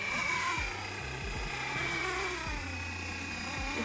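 Flywing BO-105 RC helicopter hovering in place, giving a steady, faint high-pitched rotor and motor whine with a constant tone, accompanied by low thumping music beneath.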